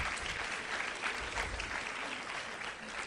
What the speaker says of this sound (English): Can you all applaud these people that are here?